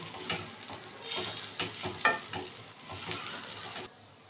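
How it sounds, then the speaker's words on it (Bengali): Bottle gourd peel frying with peanuts and poppy seeds in a pan, stirred so a soft, steady sizzle rises and falls with scraping strokes, fairly faint and close, with no talking. "আরও কয়েক মিনিট ভেজে নেব"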